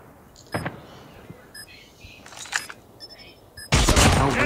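Gunshots in a shooting video game sound as scattered short bursts, then a louder, sustained volley near the end, with faint background game noise between.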